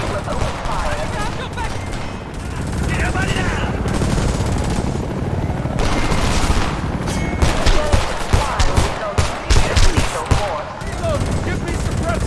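Heavy gunfire and automatic weapon bursts from the war shooter Homefront, loud and sustained with sharp volleys growing denser toward the end, mixed with battlefield noise and voices.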